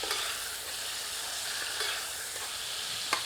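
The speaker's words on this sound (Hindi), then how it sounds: "हमें मुर्ग को लगभग 5 मिनट तक मध्यम आंच पर इस देसी घी में भूनना है।" Chicken frying in desi ghee over medium heat, a steady dense hiss of sizzling fat close to the pan, with a few faint stirring clicks and no talking.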